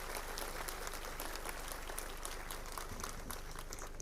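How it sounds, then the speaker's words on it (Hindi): Audience applause at a Jat parliament gathering in Gujarat: a steady, fairly faint wash of many hands clapping that runs unbroken for about four seconds. "एक बार 5 सेकंड के लिए ताड़ियां बजा के भाई PS कलवाणी और राम अवतार पलसानिया जी का अभिनंदन करें।"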